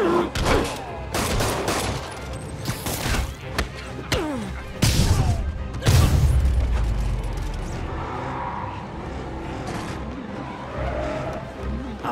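Criminals open fire in Marvel's Spider-Man, a burst of loud close gunshots and thuds over busy action noise, with heavy impacts midway and shouted voices now and then.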